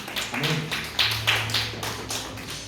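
Children's hands clapping during a church Easter service for elementary kids, a handful of bright claps and taps scattered over a couple of seconds, fairly close and uneven, with faint voices beneath.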